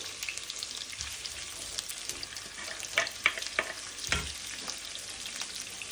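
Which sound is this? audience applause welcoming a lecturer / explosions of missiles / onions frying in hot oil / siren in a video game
onions frying in hot oil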